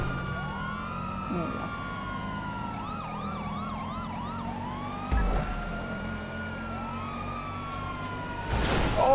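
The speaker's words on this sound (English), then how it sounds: "Turn your lights and sirens on." Police car sirens in Grand Theft Auto V wail and yelp in rising and falling sweeps over game engine noise, with a loud crash near the end and players talking throughout.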